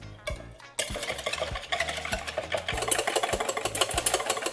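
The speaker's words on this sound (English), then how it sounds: "we're gonna take this cream and we're gonna also whip it to soft peaks" Cream being whisked by hand toward soft peaks in a bowl, a rapid rhythmic clatter of the whisk against the side that starts after a brief pause and keeps up steadily.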